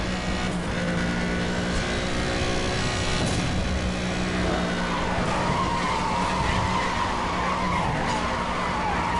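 Car drifting in NFS Hot Pursuit Remastered, with long, loud, continuous tire skidding over a steady engine drone, sustained through the whole stretch.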